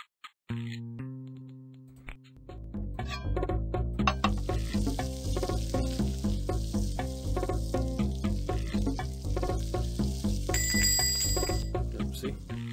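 The ring of an order bell in the Papa's Taco Mia cooking game chimes near the start, then bright tones keep sounding over steady, bouncy game music.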